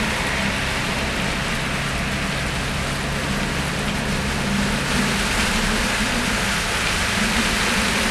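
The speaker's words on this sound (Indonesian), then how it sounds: "Wah, hujan lagi." Steady rain hisses continuously, dense and even, with a low rumble underneath, heard from inside a double-decker bus travelling from Yogyakarta to Surabaya during a downpour.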